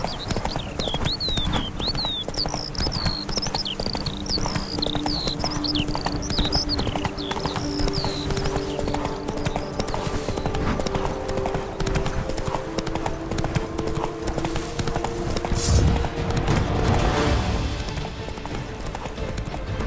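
Galloping horse hooves in The Witcher 3, a steady rapid clip-clop rhythm running throughout, close and loud, with a warbling whistle-like call in the first few seconds.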